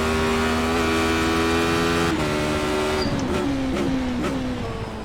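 A Radical race car engine in the iRacing simulator at Oulton Park screams at high revs, then drops pitch in a series of quick downshift steps, loud and sustained with no voices.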